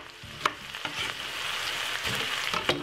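Vegetables and tomato stir-fried in a pan, a continuous close sizzle broken by a few sharp utensil clacks and stirring scrapes.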